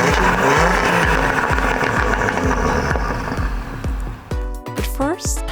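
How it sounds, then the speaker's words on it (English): An Audi Sport S or RS engine running with its exhaust valves open gives a deep, throaty drone with rhythmic pulses and revving swells. It stays loud and close throughout and thins out near the end, where a brief tonal sound takes over. "unleash the full sound of your Audi Sports engine"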